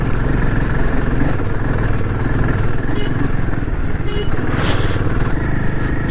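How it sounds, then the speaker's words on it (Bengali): A motorcycle climbs a steep mountain road toward Gurudongmar in North Sikkim in first gear, its engine droning loud and steady at high revs throughout, with a voice talking over the engine. "থ্রটল ছাড়াই যাবে না, আর চেষ্টা করবে ফার্স্ট গিয়ারেই তোলার"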